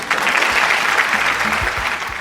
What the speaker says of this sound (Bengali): অংশুর জন্য একটা জোরে হাততালি।